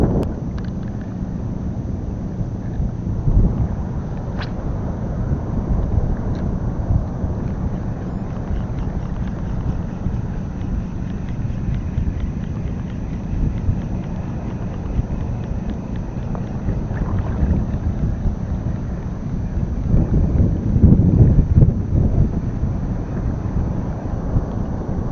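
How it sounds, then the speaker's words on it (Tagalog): Strong wind gusts across the microphone while someone fishes from a boat on rough water with big waves, a heavy low rumble that stays constant and swells near the end. "Talubong sa hangin."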